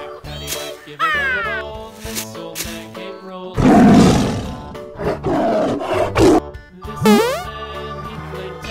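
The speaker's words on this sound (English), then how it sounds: "Yellow tiger." A tiger lets out a deep, loud roar midway, followed by a few shorter growls, set against cheerful children's music.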